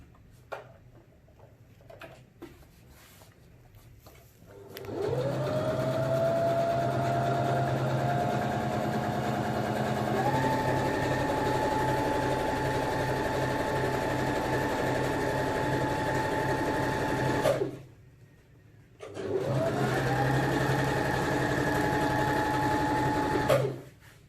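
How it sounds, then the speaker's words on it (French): Sewing machine stitching a U-shaped seam to close a cushion, running in two long continuous whirring bursts with a steady rapid needle rhythm, separated by a short pause and quiet handling noises at the start. "je vais reprendre la couture ici pour faire mon U et fermer le coussin"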